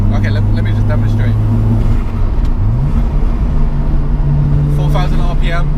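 A Mazda RX-7 FD3S rotary engine holds a steady cruise at 4,000 RPM, a smooth continuous drone with a sustained low hum that shifts pitch slightly partway through, heard from inside the car while someone talks over it.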